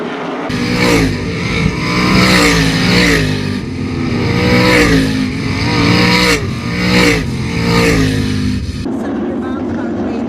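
Sprint cars in a heat race for the 305 class roar around the dirt oval at Attica Raceway Park, engines rising and falling in pitch as the pack sweeps past, loud and continuous, with an announcer talking over the noise.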